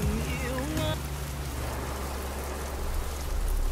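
Rain falls on a truck hauling concrete at night in Euro Truck Simulator 2, a dense steady hiss of drops that fills the whole stretch, with a brief rising electronic tone at the start.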